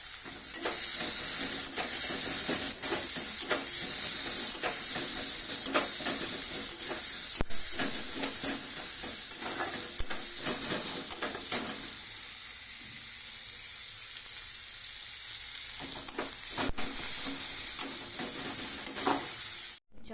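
Onions sizzle steadily in hot oil in a pan, a continuous bright frying hiss broken by repeated scraping stirs of a spatula, fairly close and with no talking.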